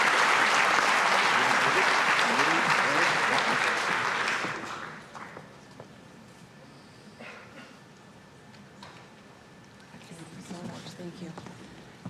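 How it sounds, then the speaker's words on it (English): A conference mainstage audience gives a big round of applause, loud and dense clapping for about four seconds that quickly thins out into scattered claps and room murmur. "very big round of applause."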